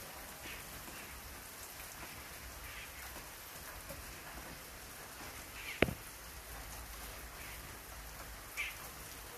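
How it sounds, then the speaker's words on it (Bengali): Steady rain falls on surfaces in a town setting with sun shining at the same time, a soft continuous patter with one sharp nearby drip or tap midway and no talking. "একদিকে বৃষ্টি পড়ছে, একদিকে রোদ।"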